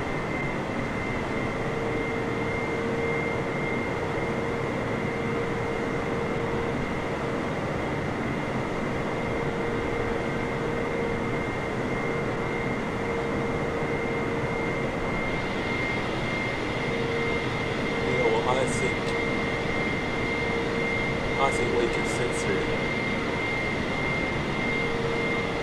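A Boeing 747-8i's jet engines in Microsoft Flight Simulator 2020, landing at snowy Oslo Gardermoen, roar as a steady, dense drone with a constant whine that stays loud and unbroken throughout.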